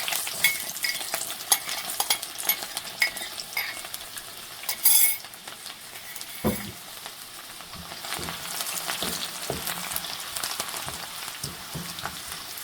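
Chopped garlic tossed into a hot pan for an ilish fish and saag mash dish, sizzling and frying steadily while a utensil stirs and scrapes against the pan, with occasional metallic clinks.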